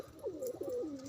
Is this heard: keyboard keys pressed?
no